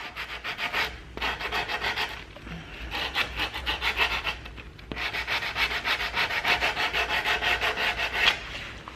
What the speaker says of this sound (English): I take my little sand block to sand it enough that I can get all the little loose splinters off